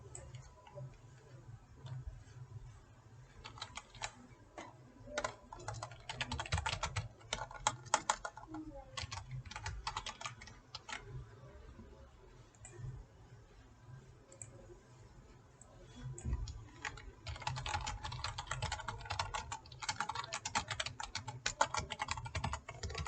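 Rapid clicking on a computer keyboard while someone writes code, in irregular bursts under a low hum, with brief pauses between runs of keystrokes.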